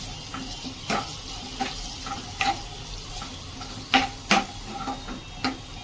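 Turmeric and red chilli powder being stirred into a dill kofta mixture in a pan, a soft steady background hiss broken by several short scraping clinks of a spoon against metal, close and moderately loud.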